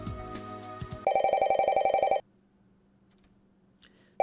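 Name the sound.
telephone ringing, sound effect in a visual novel video game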